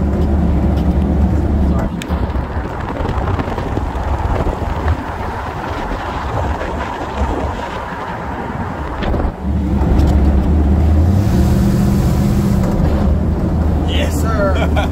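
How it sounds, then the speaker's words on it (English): A Mystery Machine van rolls along with its manual brakes, its engine drone and road rumble continuous and close, mixed with wind buffeting and rattling as voices speak over it. "Dude, we're driving the Mystery Machine."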